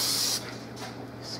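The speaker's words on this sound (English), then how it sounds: "First, you can spray some cooking spray on your waffle maker." Cooking spray hissing from a can onto a Black & Decker Belgian waffle maker, a short close burst of spray that fades into a softer lingering hiss.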